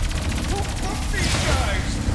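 Live gunfire from the Ratchet and Clank: Rift Apart video game, a dense rattling volley of shots under a game soundtrack, with a character's voice heard briefly over it.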